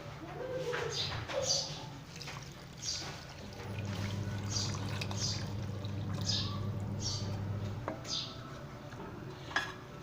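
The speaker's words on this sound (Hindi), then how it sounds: "मैं 1 गिलास पानी का इसमें शामिल करता हूँ" Water pours steadily into a pot of mash lentils (dal) for several seconds, about one glass. Light clinks of utensils come before it, and birds chirp faintly in the background.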